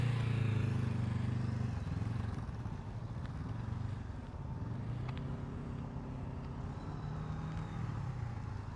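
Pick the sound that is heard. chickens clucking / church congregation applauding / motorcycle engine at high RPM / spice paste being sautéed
motorcycle engine at high RPM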